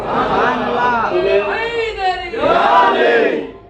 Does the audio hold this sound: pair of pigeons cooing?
no